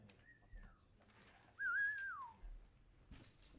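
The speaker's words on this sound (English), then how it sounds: "Celebratory whistling in the background." Celebratory whistling at a photography awards event, two rising and falling whistled notes heard faintly in the background of a quiet room.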